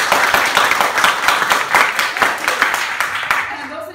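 A theater audience at a Stockholm class show claps to vote for a story, a modest burst of individual claps that thins out and stops near the end, with voices mixed in.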